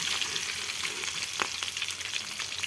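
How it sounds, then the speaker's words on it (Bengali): Pieces of a 5 kg river rohu from the Padma fry in hot oil, a close, steady crackling sizzle with occasional sharper pops and a light stir. "এই দেখুন বন্ধুরা, আমার মাছটা ভাজা হয়ে গেছে, বেশি ভাজবো না"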